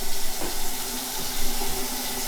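A household faucet runs during a house inspection of a renovated home, giving a loud, steady hiss of flowing water that continues unbroken throughout.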